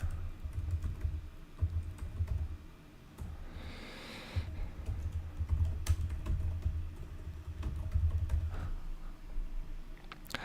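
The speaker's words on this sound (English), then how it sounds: "So I'm gonna type something here." Fingers tap a computer keyboard in quick, uneven bursts of clicky keystrokes, close and fairly quiet, with a short pause partway through before typing resumes.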